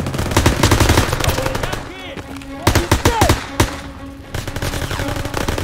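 Call of Duty: WWII gunfire: bursts of machine-gun and rifle fire in rapid clusters, loud and close, with pauses between volleys and game speech mixed in.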